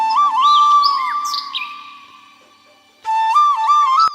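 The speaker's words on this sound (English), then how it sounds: "A bird of paradise." A bird of paradise, a male with red and yellow head, blue-green body and long white tail feathers, gives loud, clear whistled calls with rising and falling notes, a burst that fades, a pause, then another strong phrase.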